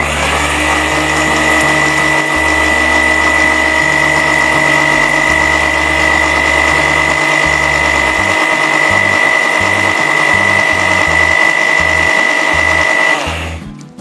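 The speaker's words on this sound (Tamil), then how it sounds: "ஸோ இப்போ நல்லா நைஸாக அடிச்சிட வேண்டியதுதான்." A kitchen mixer grinder whirs loudly and continuously, grinding moringa leaf powder with salt and chili, with a steady high whine over a pulsing low churn before it winds down at the end.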